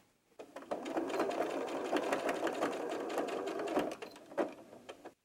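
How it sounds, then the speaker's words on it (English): A sewing machine stitches down the collar of an 18-inch doll's top, a fast close whirring run of stitches lasting several seconds before it stops. "I'm going to show you how to stitch down your collar"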